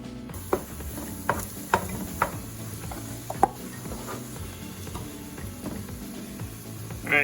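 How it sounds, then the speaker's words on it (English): Onions frying in a pan as they are stirred: a soft, constant sizzle with scattered sharp clinks and scrapes from the utensil, close by and without speech. "I'm going to be stirring occasionally until the onions turn like slightly brown."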